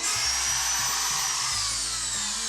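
A power tool cuts drywall around the outside of an electrical box during a home renovation, a loud continuous high whine held close and steady for the whole moment, with no talk.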